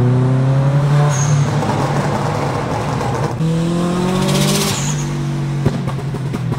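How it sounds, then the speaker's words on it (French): A Subaru engine making 540 hp in Stage 4+ tune revs hard, its intake noise loud and close, rising and falling in pitch through two strong pulls with no talk. "Quel bruit de l'admission."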